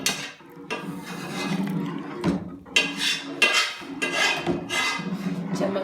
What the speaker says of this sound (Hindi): चम्मच की मदद से हिलाते जाएंगे ताकि ये गुठलियाँ ना बने